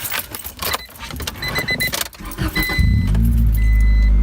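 Keys jangle close by before a car nicknamed Teggy cranks and starts for a test drive, the engine catching and settling into a loud steady low idle with a faint electronic chime.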